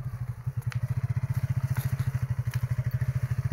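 A motorcycle ridden off the road by a beginner through a tight, rough spot gives a close, low, steady throbbing engine pulse, with occasional light clatter over the top.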